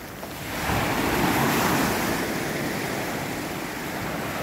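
Indian Ocean waves breaking on Bentota Beach in Sri Lanka on a morning shore, a broad roaring surf that swells louder after half a second and holds steady, mixed with wind rumble on the microphone.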